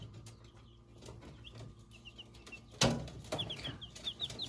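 Young chicks in a simple home enclosure without a brooder give repeated high, thin peeps close by, with a sharp thump and brief scuffling partway through.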